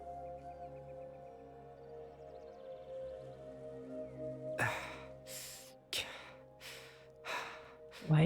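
A Genshin Impact character panting in-game, a run of short breathy gasps repeating roughly every second over a quiet steady game ambience.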